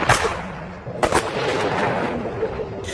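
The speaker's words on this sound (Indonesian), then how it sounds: "Thomas tidak sadar kalau di belakangnya juga ada musuh yang langsung menembak Thomas." Gunfire in an action film about an elite squad confronting a Brazilian cartel: a sharp shot at the start, then a louder double burst about a second later and a lighter crack near the end, with no talk.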